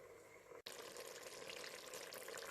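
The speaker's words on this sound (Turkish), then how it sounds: "yaklaşık 10-15 dakikadır hiç su katmadan kendi halinde kavuruyorum" Fresh broad beans sauté in a pan without any added water. The steady sizzle of frying is briefly interrupted by a short gap, then continues evenly and quite faintly to the end.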